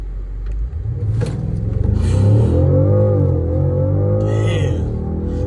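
A BMW 550i accelerates hard from inside the cabin, its engine rumble swelling into a loud, deep rising roar that holds strong for several seconds, with faint voices in the background.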